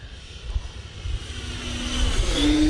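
A Freewing F/A-18C Blue Angels 90mm electric ducted-fan RC jet flies overhead outdoors, its engine a whooshing whine that swells steadily louder and rises in pitch as it approaches.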